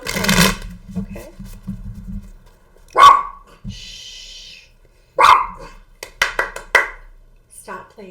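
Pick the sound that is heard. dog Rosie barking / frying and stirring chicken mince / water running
dog Rosie barking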